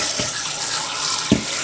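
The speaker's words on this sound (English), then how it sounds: "So now we're going to take our strained chicken and we're just going to rinse it off with hot" Hot tap water runs steadily over strained chicken in a kitchen sink, a close, continuous splashing stream with two brief sharper splashes, no talking.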